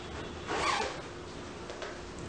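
A zipper on the removable lining of a summer jacket is pulled open in one short, quick zip close by, followed by quiet handling.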